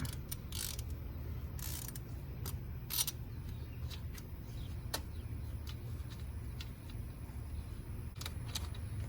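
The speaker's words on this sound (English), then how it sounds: "So I'm going to remove these two bolts right here with the E10 Torx socket." A hand ratchet with an E10 Torx socket removes bolts in the engine bay of a 2015 Porsche Macan S 3.0 V6, giving faint scattered clicks over a low steady background hum.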